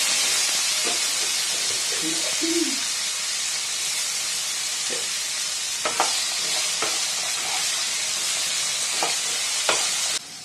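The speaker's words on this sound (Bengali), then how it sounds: "আলুগুলো একটু নুন দিয়ে ভেজে নেবো।" Diced potatoes frying with salt in a kadai give a steady, loud sizzling hiss throughout, with occasional sharp clicks and scrapes from stirring close by, and no talking.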